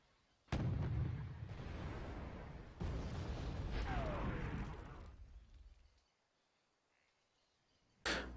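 A French recon unit with anti-air missiles blowing up in Wargame Red Dragon: a sharp blast followed by a rumbling roar, a second boom with a whistling streak, then quiet and another sudden crack at the end.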